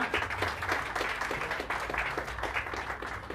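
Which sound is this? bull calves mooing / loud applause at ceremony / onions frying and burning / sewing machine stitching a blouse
loud applause at ceremony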